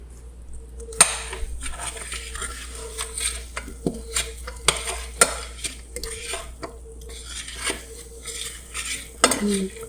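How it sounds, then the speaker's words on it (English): A spoon stirs food in a pan on the stove while baking cinnamon rolls, giving repeated metallic scrapes and clinks close up with a light background hum and no talk. "You want to stir them, and there's the spoon behind you."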